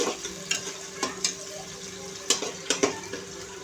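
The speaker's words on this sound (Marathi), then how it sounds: "आता हे कांदे फ्राय होतात आहे" Onions frying in a pan for a Maharashtrian matar pulao, a steady low sizzle broken by a series of sharp stirring scrapes and clinks at irregular intervals, close and fairly quiet.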